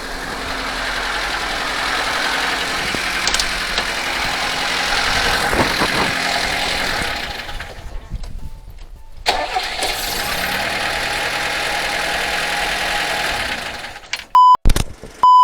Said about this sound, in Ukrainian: двигун працює дуже добре